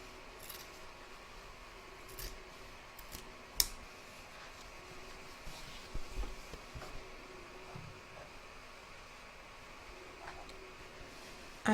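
Scissors snip through the fabric of a quilted table runner, a soft series of faint cuts and clicks with one sharper snip, recorded close and quiet with no one talking.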